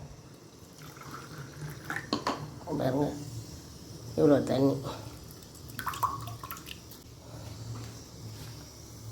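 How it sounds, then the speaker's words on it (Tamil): Water poured into a glass of broken lump jaggery on a home stove, a couple of short trickling bursts under steady background hum while someone talks. "அரை கிளாஸ் தண்ணி ஊற்றுவோம்."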